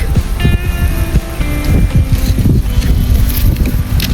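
Strong wind buffets the microphone in a continuous low roar, with a faint whistling tone drifting through early on.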